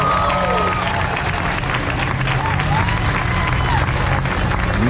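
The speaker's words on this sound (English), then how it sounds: "let's give a round of applause to the San Diego History Center." A large crowd at the San Diego Pride 2018 rally applauds continuously, dense clapping mixed with cheers and a voice rising over the noise.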